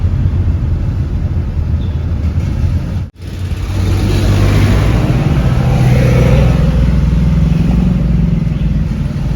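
Morning city traffic in Davao, with car and motorcycle engines revving and rumbling close by. A brief break in the sound is followed by a steady, loud stream of passing vehicles, and there is no talking.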